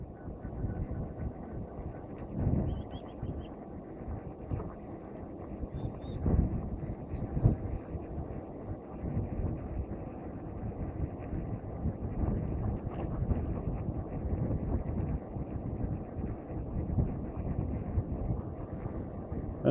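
Wind rushing over the microphone as an eBike rides into a headwind at about 28 km/h on a rural road, a continuous low roaring buffet with gusty surges throughout.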